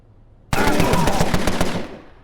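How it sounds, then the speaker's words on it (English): Rapid automatic gunfire from the Empire of Sin video game, a loud burst of closely spaced shots starting abruptly and lasting over a second before trailing off, with no talk over it. "Maybe Nora on the final shot with the long-range rifle finishes him down."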